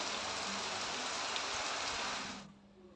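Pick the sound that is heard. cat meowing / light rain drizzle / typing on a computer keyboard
light rain drizzle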